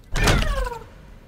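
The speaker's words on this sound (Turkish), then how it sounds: "Aa kapı kapanıyor." A door sliding shut in a video game, a single loud whooshing mechanical close with a descending whine that fades out within a second.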